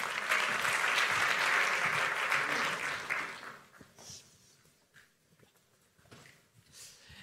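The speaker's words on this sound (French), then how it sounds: "Et on peut l'applaudir." An audience at a web conference applauds a guest speaker, a dense burst of clapping for about three seconds that fades out, leaving scattered small knocks and room noise.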